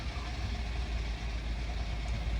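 A German car engine idling with the oil-level measurement running, a steady close rumble with a faint sucking, circulating hum and no talk.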